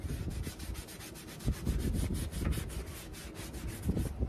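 A cloth soaked in rubbing alcohol is rubbed quickly back and forth over a surface on a Jeep Gladiator, giving steady close-up scrubbing strokes with a few firmer swipes.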